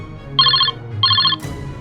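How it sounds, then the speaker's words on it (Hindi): A phone rings twice in two quick trilling bursts, loud and close, over a low background hum, before a brief rustle ends the sequence. "आपका फोन बजता है।"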